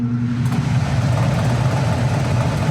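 A furnace blower fan motor runs steadily with a low, even hum and whir, close and constant with no talk.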